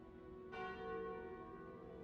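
A single bell toll from the card game Slay the Spire, the Curse of the Bell, strikes sharply and then rings on with a sustained, slowly fading metallic hum, heard alone.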